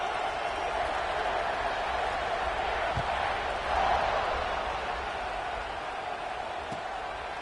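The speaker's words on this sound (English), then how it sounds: "this crowd is buzzing after that last score" A football stadium crowd buzzes steadily after a score, a dense, even roar of many voices at a distance, swelling slightly partway through with a few faint thuds underneath.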